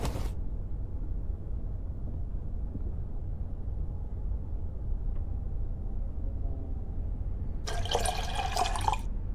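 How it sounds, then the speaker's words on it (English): Photo film developer liquid is poured out in a video game, a steady, close trickle of running liquid that continues throughout, with a brighter splash burst toward the end. "I'll pour out the developer."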